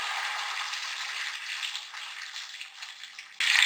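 Water pours steadily into a frying pan in a soft, hissing stream, close by, then a louder splash-like burst at the very end.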